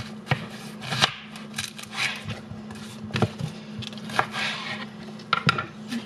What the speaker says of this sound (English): So this actually will get chopped to go in the chili.